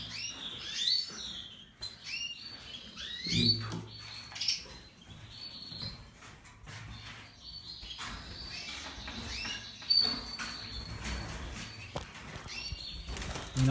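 Four small caged birds, three females and a male, chirp and tweet in short bursts with light scratchy pattering and movement, close by and irregular.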